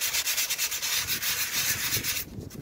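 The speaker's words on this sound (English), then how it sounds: "We've got a little 220 sandpaper" Close, rhythmic back-and-forth scraping of 220-grit sandpaper smoothing a store-bought Halloween tombstone decoration, fast even strokes that soften slightly near the end.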